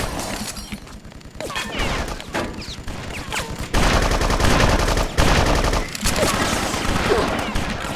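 Machine-gun fire from a machine gunner in the video game BloodRayne, with dense rapid bursts of gunfire and crashing impacts that grow louder and fuller about halfway through.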